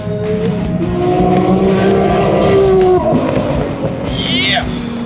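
A real NASCAR race car roars around the track, its loud engine droning and shifting pitch continuously, with a brief high squeal near the end.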